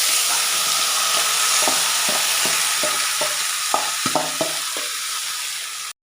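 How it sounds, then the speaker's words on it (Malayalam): Chopped taro stems frying in a pan, a loud, steady sizzle broken by a run of rhythmic scraping stirs that grows sharper toward the end before cutting off abruptly. "അതിനുശേഷം അരിഞ്ഞു വെച്ച ചേമ്പിൻ തണ്ട് ഇതിലേക്ക് ചേർത്ത് കൊടുക്കും"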